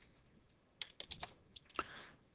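Quiet, quick clicks of keys on a computer keyboard as code is typed, a short irregular burst of taps, close and soft.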